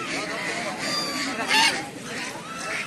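Geese for sale honk repeatedly amid a busy, crowded poultry market din, with one louder honk standing out midway.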